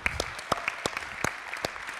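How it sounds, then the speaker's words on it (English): An audience claps in a conference hall, a brief scattering of sparse, uneven hand claps at moderate distance that thins out quickly. "Why are we clapping?"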